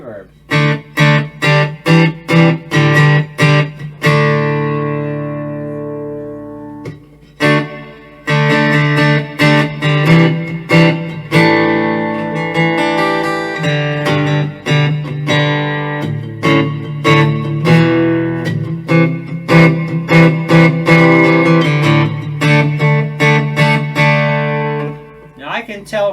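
Guitar through a Fender Acoustasonic 40 amp with reverb added, loud strummed chords and picked runs ringing with a wet tail, with brief pauses between phrases.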